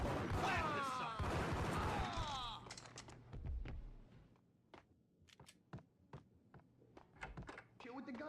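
Gunfire in the Max Payne video game: after a burst of overlapping voices and commotion, a rapid scatter of sharp, irregular shots and impacts follows, some loud and near, others fainter.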